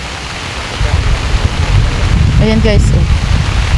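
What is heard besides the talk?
rain falling on a farm field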